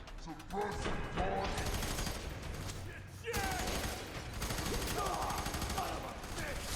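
Suppressing gunfire in the shooter game F.E.A.R. 3, bursts of rapid automatic fire layered with mechanical clatter and chaotic combat noise, loud and continuous with a brief dip midway.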